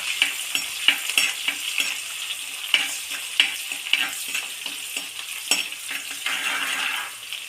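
Chopped shallots, ginger and garlic sauté in hot oil for a Kerala mackerel curry, a steady sizzle broken by repeated scraping stirs of a spoon against the pan, close and fairly loud with no talking.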